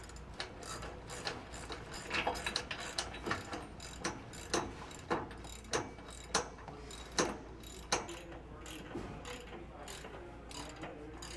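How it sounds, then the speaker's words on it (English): A ratcheting wrench tightens the rear anti-sway bar bolts on a 2024 Ford F-53 chassis. Its quick clicking strokes come close up in short bursts, with metallic rubbing in between and no talk. "you can take your ratcheting wrench and get this tightened down"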